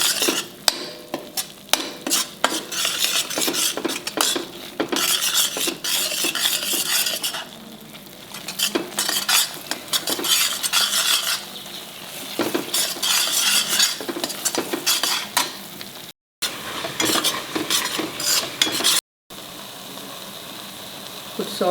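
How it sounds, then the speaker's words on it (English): Masala fries in a vessel while a spoon scrapes and stirs, giving rapid metallic clinks and scrapes over a steady sizzle, with brief pauses in the stirring. "Fry it well till the masala leaves the sides of the vessel."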